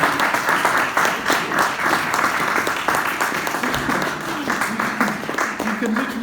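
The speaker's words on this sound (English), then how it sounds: "Could you please give a round of applause to the local butcher, Brother Masood" A community gathering audience gives a round of applause for a local halal butcher, a dense steady wash of clapping from many hands that runs throughout, with some talk mixed underneath.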